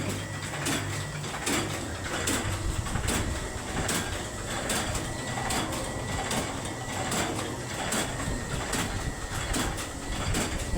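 A Chinese flexo label printing machine running a six-colour print job on white care labels, giving a continuous mechanical clatter with repeating rhythmic clicks, steady and close without pauses.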